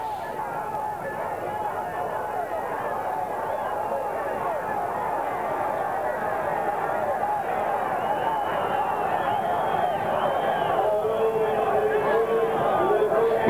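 Spectators roaring at the 1995 World Track Sprint Championships, a dense, continuous wall of crowd noise and babble that builds slightly near the end, with commentary running over it.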